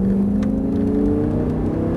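An Audi R8 sports car engine drones loudly and steadily at high revs at full throttle on a race circuit, a close, sustained whirring roar as the car accelerates hard.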